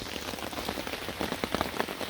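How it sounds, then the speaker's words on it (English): Rain falling onto a tarp in the mountain woods, a dense, steady patter of drops with a soft hiss beneath, close and even throughout with no voices. "we're sitting under the tarp. It's raining."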